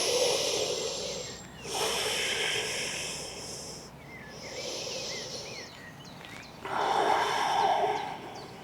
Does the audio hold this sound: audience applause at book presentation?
no